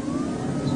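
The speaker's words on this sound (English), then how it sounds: "the motor sounds like a little sports car" Car with a magnetic motor running steadily, a continuous mid-pitched engine hum with a slight rising whine, close and even throughout.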